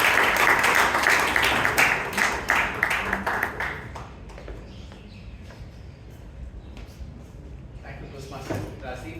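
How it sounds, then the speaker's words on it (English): Audience applause at a Toastmasters club meeting in Bangalore: a burst of clapping from a room of people that fades after a few seconds into quieter room noise, with a voice speaking toward the end. "give Abhay a big round of applause"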